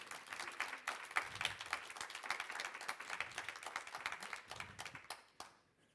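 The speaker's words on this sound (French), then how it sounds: "Je vous invite à les applaudir." Audience applause fills a hall at a 2021 startup pitch event, honoring the presenters: dense, steady clapping from a sizable crowd that carries for several seconds, then tapers off near the end.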